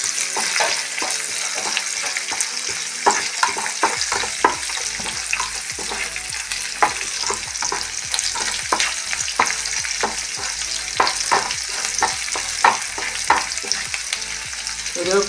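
Garlic and shallots fry in a hot pan with a continuous close sizzle, while a spoon stirs with frequent rhythmic scrapes and knocks throughout.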